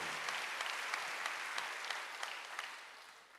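Congregation at a Korean Wednesday church service claps together in a steady wash of applause, dense and even throughout with no voices above it.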